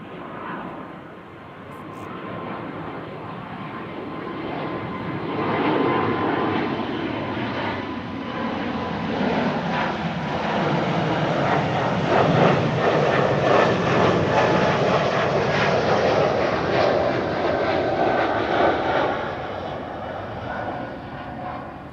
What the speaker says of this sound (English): E2 Embraer 195 on its way to Barcelona, flight 1515.